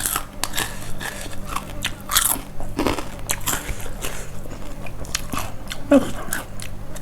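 Close, loud crunching and chewing as someone eats crispy pork with rice, a run of crisp bites and munching with brief pauses and no talk over it.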